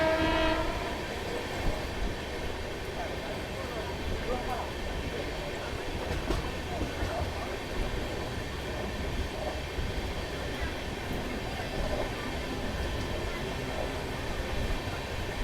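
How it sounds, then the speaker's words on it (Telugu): Gautami Superfast express train running on an elevated track, a constant heavy rolling rumble with rail clatter and a horn blast near the start, heard steadily throughout. "ఎక్కడో గౌతమి సూపర్ ఫాస్ట్ ఆకాశంలో వెళ్తుంది"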